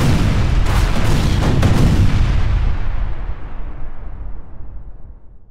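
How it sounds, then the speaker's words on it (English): A volcanic eruption explosion from a natural disasters sound pack, a deep, powerful boom with rumbling blasts in the first seconds that slowly decays into a long fading roar, heard alone. "And of course, plenty of explosions."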